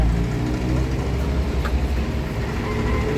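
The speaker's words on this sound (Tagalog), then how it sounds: "Yan ang klaseng generator na hindi maingay." A silent-type enclosed generator runs with a steady, low, droning hum that holds evenly from start to finish, with no other sound standing out.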